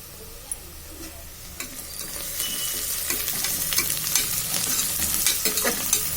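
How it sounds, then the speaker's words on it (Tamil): Onions and fennel seeds sautéing in a pan, a steady sizzle and frying crackle broken by repeated scraping stirs that grow busier toward the end, heard close with no talk. "வெங்காயம், சோம்பு போட்டு நல்லா ப்ரௌனிஷாக வதக்கிக்கோங்க"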